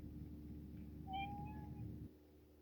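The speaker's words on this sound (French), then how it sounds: "Mon chat est trop mignon." A cat meows once, a single drawn-out rising and falling call heard close by over a steady low background rumble that cuts off near the end.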